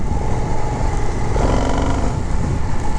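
A 2023 Indian FTR R Carbon 1200 motorcycle is ridden in sport mode on a rainy road, a loud steady engine roar mixed with heavy wind noise, rising briefly as the throttle opens.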